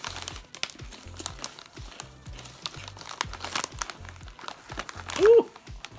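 A bag of Burt's British Ham potato chips crinkles and rustles in sparse bursts close by, with a short voiced sound near the end.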